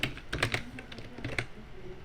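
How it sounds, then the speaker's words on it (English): Close, crisp typing on a computer keyboard while coding in Python: a quick run of clicking keystrokes with a few sharper taps, no talking. "Now if you type"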